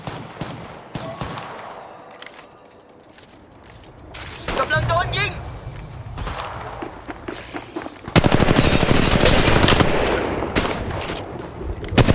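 Gunfire in a fight in Apex Legends Mobile, rapid automatic bursts and single shots crackling close, building to a dense sustained volley near the end, with a voice speaking Thai over parts of it.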